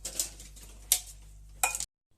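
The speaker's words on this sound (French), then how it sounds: "Et nous allons mélanger le tout." Rice salad is stirred in a bowl, faint scraping punctuated by three sharper clinks of a utensil against the bowl at uneven intervals, quiet and close, ending abruptly in silence.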